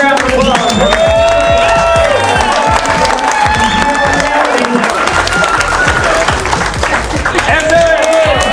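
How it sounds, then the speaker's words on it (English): A crowd at a monster truck event applauds and cheers steadily, loud and sustained, with shouting voices and talk mixed into the clapping. "One more time, let's give a big round of applause."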